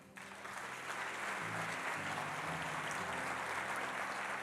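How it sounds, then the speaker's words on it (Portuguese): Congregation applauding during a church service, a steady wash of clapping that rises in the first moment and holds evenly, with a low sustained tone, likely music, underneath. "Aplauda ao Senhor."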